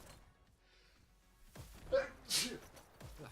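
A single muffled sneeze from a distance, preceded by a quick sharp inhale, in an otherwise quiet room.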